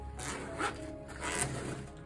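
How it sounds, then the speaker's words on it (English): A water-resistant zipper on a tactical kit bag is pulled in two short rasping strokes, close and moderately loud, with faint rustling of the bag fabric around them. "these zippers are water resistant zippers"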